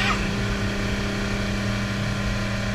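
A 1998 Four Winns 180 Horizon motorboat at full throttle, its engine drone loud, steady and continuous with wind and water rush over it.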